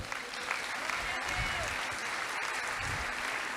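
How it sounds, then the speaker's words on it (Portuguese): Steady applause from a large church congregation, dense clapping that continues evenly throughout without pause. "Aplaude a Deus, aplaude"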